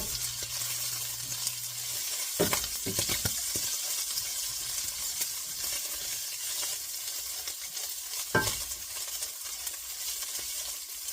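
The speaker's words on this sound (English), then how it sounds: "I'm going to mix everything together" Fideo Loco ingredients being stirred together in a pan, with a steady soft sizzle throughout and a few scraping knocks of a utensil against the pan, no talking.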